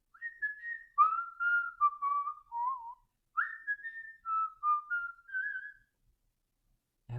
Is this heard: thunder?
no